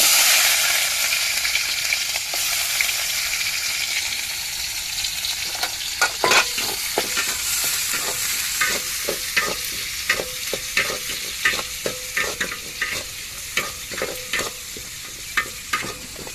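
Mustard seeds, chopped small onions and curry leaves frying in hot oil while being stirred: a loud continuous sizzle with a burst of spitting, then rhythmic scraping stirs repeating every second or so, with no talk.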